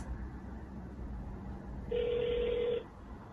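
A phone call is placed and a single steady ringback tone sounds for about a second over a low background hum, with no talking.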